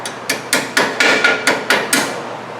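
A hammer taps a rusty rear drum-brake hardware part loose on a 2008 Mercury Grand Marquis. Eight sharp metallic knocks land in a steady, close rhythm with nothing else heard.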